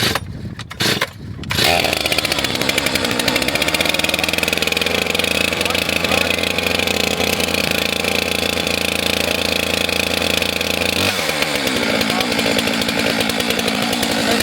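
A chainsaw is pulled into life, then its engine roars loudly and steadily, holding a constant drone with a brief dip near the end.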